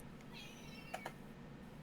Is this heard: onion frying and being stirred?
no